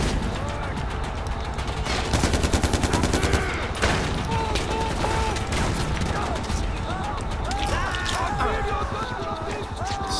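Dense gunfire in Far Cry 4 rattles almost nonstop in rapid automatic bursts and overlapping shots, loud and close, with a voice talking over parts of the battle.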